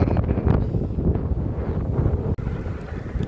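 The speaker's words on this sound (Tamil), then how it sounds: "என்ன காற்று, அவ்வளோ காற்று அடிக்குது" Strong wind buffets the microphone with a steady, loud roar throughout, outdoors among paddy fields and a pond in a Sri Lankan village.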